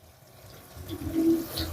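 Cold tap water runs over rice in a kitchen strainer, giving a soft, steady hiss and splash that builds slightly toward the end of the short stretch.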